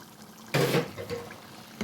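A spoonful of whisked yogurt goes into chicken karahi in the pan, a single short wet splat followed by faint bubbling and a second small plop.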